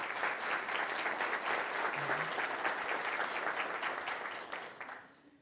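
An audience claps at the opening of the 2022 Wells Fargo North Carolina Principal of the Year naming ceremony, a dense, even round of applause that fades out near the end.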